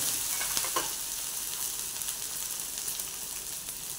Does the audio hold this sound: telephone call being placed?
no